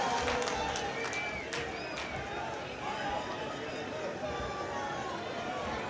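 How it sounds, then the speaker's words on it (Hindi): A large crowd at a Rahul Gandhi rally in Delhi makes a loud, dense, continuous roar of clapping mixed with cheering and chatter, close and steady throughout. "ज़रा जोरदार तालियों से स्वागत करें, जोरदार तालियों से"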